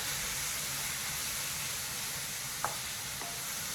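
Beef and garlic frying in a pan over high heat give a steady, dense sizzle that runs unbroken, with a couple of small clicks near the end.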